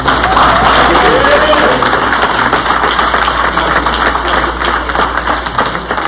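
Applause from a conference audience at a keynote event, steady clapping over a constant low engine-like hum, with voices talking through it.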